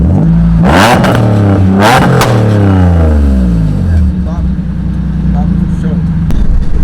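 A Nissan 370Z engine revs hard through several loud, rising pulls with sweeping pitch, the exhaust note climbing and falling close by, while a voice talks briefly over it.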